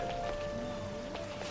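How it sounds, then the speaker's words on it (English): Rain in a video game, a steady hiss of drops on surfaces that stays even and fairly close, with a faint sustained tone and soft ambient sounds mixed underneath. "Just had to rain."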